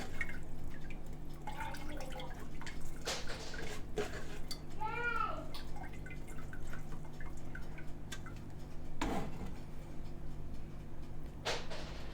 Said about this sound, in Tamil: இப்போ பாருங்கள் தேங்காய்ப்பால் புளிஞ்சு